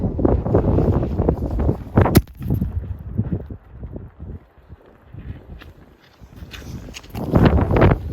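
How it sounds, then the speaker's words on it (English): Gusty wind buffets a OneTigris hot tent and the microphone outdoors, roaring loud in surges, easing off midway, then gusting hard again; fabric flaps and rustles faintly underneath. "the wind's picking up"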